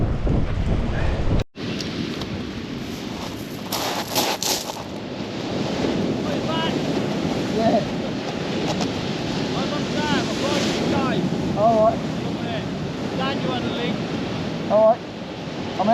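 Sea waves break steadily on a beach under constant, buffeting wind noise during a sea-angling match, with a dense roar that holds throughout and a brief dropout near the start.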